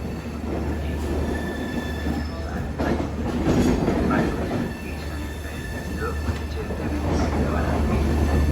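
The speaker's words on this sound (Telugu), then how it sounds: "ఆన్ టైం అయితే బయలుదేరింది బండి" Netravati Express sleeper train rolling along the tracks toward Tiruvananthapuram Central, a steady loud rumble with wheel squeal and rattling from inside the coach, running continuously throughout.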